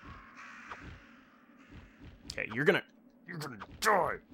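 Crows caw harshly in the survival-horror video game Resident Evil, with a couple of loud, close raspy calls toward the end, preceded by clicking game sounds and someone speaking briefly.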